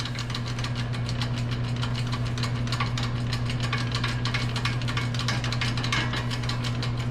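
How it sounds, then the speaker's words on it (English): A hydraulic dimple die being pumped down through a hole in race cage tubing, heard as a steady, loud mechanical rattle with rapid ticking over a constant low hum throughout. "put the dimple die in the hole, and you pump it down"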